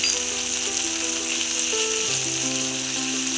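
Spices and fish sizzle steadily in hot oil while being sautéed for katla posto, a dense continuous crackle close to the pan, with an intermittent high whistle-like tone over it.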